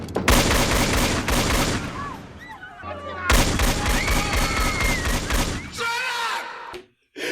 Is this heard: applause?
no